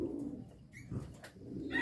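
Racing pigeon cooing at the loft on arrival from a race, a few soft low coos close by over faint background noise, with no talking.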